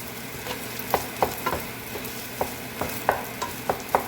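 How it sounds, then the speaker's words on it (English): Fried rice with SPAM being stirred and pressed in a pan to break up clumps, a steady sizzle with regular scraping taps of the spatula, close and fairly quiet. "So mix them up and do this. You know why I'm doing this? So that you break the big lump of rice."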